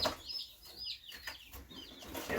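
Soft, chirpy peeps and clucks from a young egg-laying chicken, a few short calls repeating over a couple of seconds, close by, with no talking.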